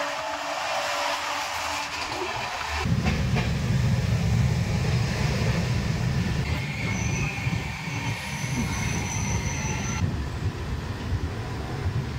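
A long-distance express train runs through a railway station in India, its wheels grinding and squealing loudly and steadily under a heavy rumble of rolling carriages, with no voices.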